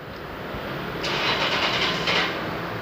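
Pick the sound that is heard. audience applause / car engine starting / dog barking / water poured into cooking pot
car engine starting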